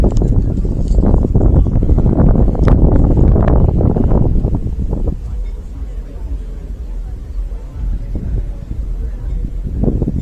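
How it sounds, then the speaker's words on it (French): Wind buffets an outdoor microphone with loud, rumbling gusts during the first half, then eases into a steadier, quieter roar that lingers to the end. "j'espère que le vent ça va pas faire trop chier"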